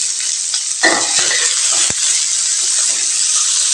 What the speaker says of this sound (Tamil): இதெல்லாம் நல்லா வதக்கி விடலாங்க